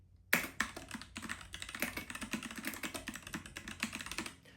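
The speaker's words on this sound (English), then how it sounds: "It's this wonderful mechanical keyboard." Steady typing on the mechanical keyboard of a Freewrite Hemingway smart typewriter, with a sharp first keystroke followed by a fast, uneven run of close, crisp key clicks.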